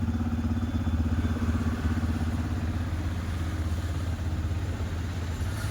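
A Yamaha FZ-S motorcycle engine runs at a steady low rev near 2000 RPM, a continuous close throbbing hum with even pulsing and no voices.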